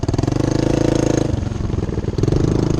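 A small 125cc enduro motorcycle engine revs hard and close, its buzzing drone holding high before dropping briefly and then climbing again, loud and alone.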